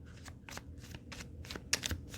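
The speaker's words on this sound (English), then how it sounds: "I'm currently shuffling healing crystals, playing cards, and the crystal playing cards." Crystal-themed playing cards are shuffled by hand up close, a quiet run of soft, rhythmic riffling strokes repeating about every quarter second.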